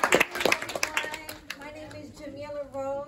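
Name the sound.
audience round of applause at community meeting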